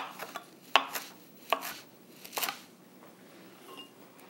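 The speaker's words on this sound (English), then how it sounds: "So let me coarsely chop some parsley here so we have something to work with." A knife coarsely chopping parsley on a cutting board, several sharp, close taps spaced irregularly, with a short cluster of quick chops near the middle before things go quiet.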